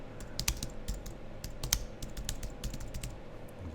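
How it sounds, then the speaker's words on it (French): Steady keystrokes on a computer keyboard as a title is typed, close and crisp clicks in an uneven rhythm over a quiet room hum. "Alors on va taper un titre."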